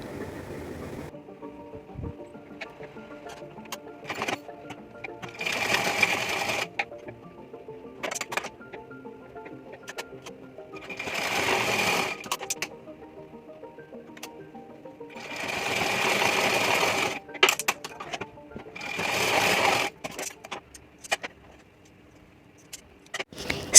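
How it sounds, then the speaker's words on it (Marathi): A sewing machine stitches a folded blouse piece of cloth, running in several loud, steady bursts separated by quieter pauses of handling and clicks, with no talking. "हा ब्लाऊज पीस फोल्ड करून आपण आता मशीनवर त्याला शिलाई देऊन घेणार आहोत"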